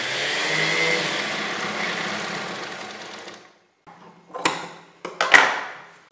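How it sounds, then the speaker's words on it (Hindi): Sewing machine stitching a fabric strip onto a kurti, a steady close whirring run for about three seconds, then silence followed by a few short bursts of stitching and handling clicks. "इस पर हम सिलाई मशीन चलाएंगे"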